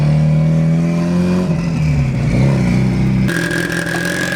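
A Mitsubishi Evo 8 tuned to over 570 wheel horsepower drives close by, its engine revving loudly, dipping briefly, then rising again with a sharp shift in pitch.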